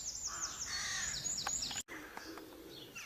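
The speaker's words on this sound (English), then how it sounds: "the birds singing" Birds sing and call outdoors in a quiet spot in Devon, with a run of repeated chirps and whistles and a crow cawing, fairly close and clear, followed by softer scattered calls after a brief break.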